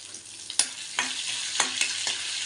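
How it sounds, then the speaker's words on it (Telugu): Crushed ginger sizzles in a hot pan, a steady close fry broken by a few sharp stirring scrapes and spatters, with no talking. "ఇప్పుడు దీంట్లో వేద్దాం అల్లం, ఎందుకంటే కొంచెం వేగితే బాగుంటుంది కదా అల్లం."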